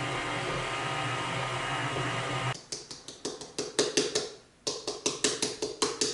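A KitchenAid stand mixer, just repaired after months out of use, whirs steadily at close range while mixing banana bread batter, then gives way to a run of sharp rhythmic taps and slaps with a brief quiet gap.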